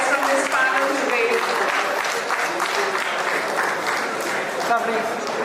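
Audience applauding at a business meet and expo, sustained crowd clapping across the hall with voices audible over it.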